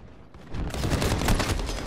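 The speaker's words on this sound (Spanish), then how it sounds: "Mira cómo revienta este arma." Rapid weapon fire in Call of Duty Modern Warfare, a dense burst of shots that swells after a quieter opening and keeps going as a loud, continuous fusillade.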